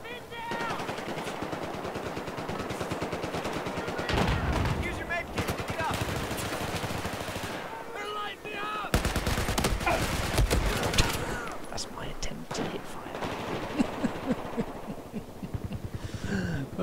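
Rapid machine-gun and rifle fire in a Battlefield 4 team deathmatch on the Dragon Valley map, long sustained bursts rattling in waves with brief lulls between them.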